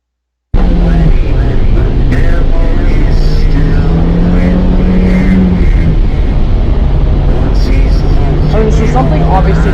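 A car races down a road in Greylock, a loud continuous engine drone with rising and falling revs filling the whole stretch, heavy and close, with a voice talking over it.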